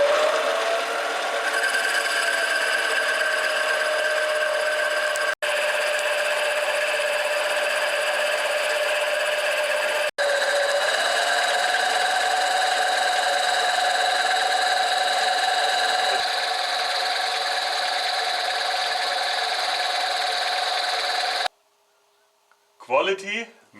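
A tool bores out leftover material from a hole during a radial seal and pilot bearing job on a Porsche 944, producing a long, steady tonal whine close by with two brief breaks before stopping, followed by a few faint knocks.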